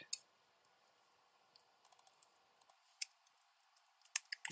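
Someone types on a computer keyboard in scattered bursts of light, crisp key clicks, faint in a quiet room, with a few louder taps near the end.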